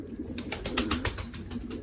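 Homing pigeons coo in soft, repeated pulses that come close together, with a faint hiss of background noise behind them.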